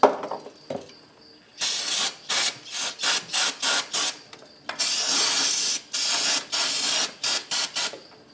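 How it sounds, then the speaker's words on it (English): Throttle body cleaner sprayed onto the throttle body of a Toyota 3.3-liter V6 during a tune-up, heard as a series of close, loud aerosol hiss bursts in quick repeated pulses, some long and some short, with no talking. "just hit it with more of that throttle body cleaner"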